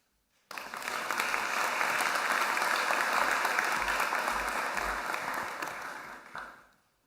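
Applause for graduating students at the PCA&D 2025 commencement, starting abruptly and holding as a steady even wash of many hands before fading out near the end, moderately distant.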